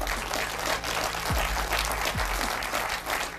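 Steady applause from a political audience, a dense wash of clapping that holds at moderate volume throughout without voices on top.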